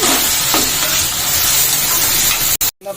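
Onions frying in a pan: a loud, dense, continuous sizzle heard up close, with a faint stir early on, then cutting off abruptly near the end.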